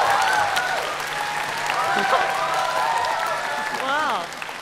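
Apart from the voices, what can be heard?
audience applause welcoming a dancer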